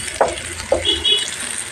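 Green chillies and chopped onions sizzle and hiss steadily in hot oil, with two brief louder bursts as the chillies drop in. No one speaks.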